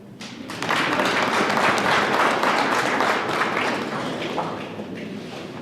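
A gathering in Kavango West claps after a council resolution to make Kahenge its own village council; the clapping starts quickly, swells into loud, dense applause, then eases slightly while continuing near and steady.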